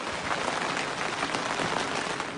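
A short stretch of heavy rain pounding on a roof, a thick, constant hiss of countless drops, loud and close, with nothing else heard.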